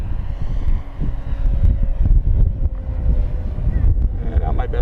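Gusty wind roars and buffets the microphone outdoors during a windy maiden flight of an FMS Pitts V2 1400mm RC biplane, a constant low rumble with a faint engine hum underneath.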